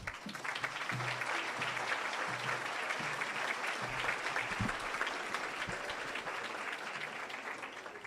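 Sustained applause from a ceremony audience at an IMSS Puebla event, a dense steady wash of many hands clapping for the full length with a few low thumps underneath.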